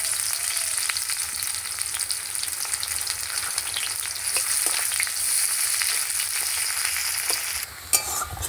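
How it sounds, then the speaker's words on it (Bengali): Chopped onions with five-spice tempering frying in hot oil in a pan, a steady close sizzle with occasional stirring scrapes and a brief clatter near the end. "পেঁয়াজটা আমার লাল লাল করে ভাজা হয়ে গেছে।"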